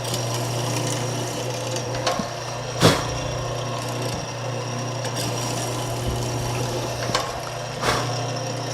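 A hollow chisel mortiser cuts a mortise in wood, with a steady motor hum under the plunges and a few sharp cutting knocks and thumps spaced through the run.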